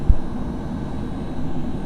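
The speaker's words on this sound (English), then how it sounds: "You can probably hear the AC blowing behind me." Air conditioning blowing inside the cab of a 2004 Bobcat T300 skid steer, a steady broadband whooshing hum that stays even and fairly loud throughout with no talking.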